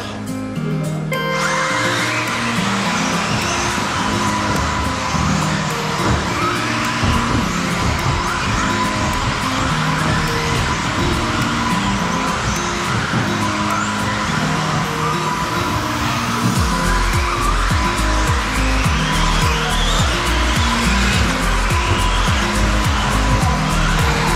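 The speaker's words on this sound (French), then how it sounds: "on a fait ma première course en 10e depuis mes débuts" Electric 1/10 scale RC cars race at a Téléthon event in Gargenville, producing a continuous loud, high motor whine with tire squeal and skidding as the cars pass close by.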